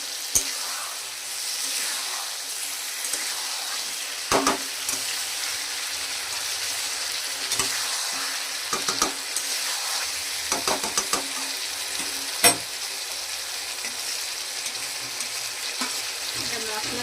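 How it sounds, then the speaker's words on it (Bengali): Raw banana kofta curry sautéing in a pan, giving a steady bright sizzle broken by a series of sharp spoon scrapes and clatters, loud and close. "একটু কষানো হবে এটা"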